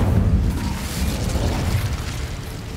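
Incendio fire spell cast in a video game, a roaring explosive whoosh of flame bursting loud and close, then a rumbling crackle that sustains briefly before easing.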